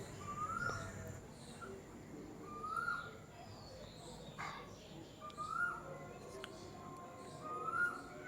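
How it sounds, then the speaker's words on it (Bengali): A cuckoo calls several times across a morning scene, its short rising notes repeating at intervals over steady outdoor background noise with occasional dog-like yips nearby. "আর কোকিলের আওয়াজটা কি সুন্দর লাগছে তোমরা দেখো"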